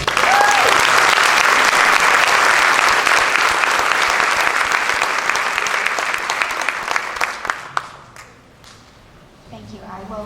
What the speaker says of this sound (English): And I think he deserves our round of applause.